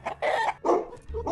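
Rooster crowing in a short burst of several loud, close squawking calls, alone, brief and harsh.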